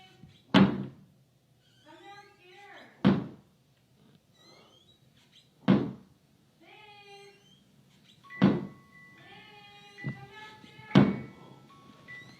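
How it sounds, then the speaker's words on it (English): Door slamming repeatedly in a house during a ghost recording, five heavy, close thuds spaced a few seconds apart, with squeaky, whining sounds between the slams. "in the morning and then slamming the door."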